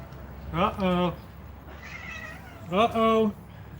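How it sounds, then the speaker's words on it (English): Two male cats in a home yowl and meow loudly at close range in two drawn-out bursts separated by a quieter, lower moan, with no talking over them. "Leave that cat alone."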